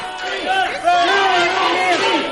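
Protesters shout in a dense, continuous crowd roar at a press conference, with overlapping voices yelling together loudly and steadily throughout.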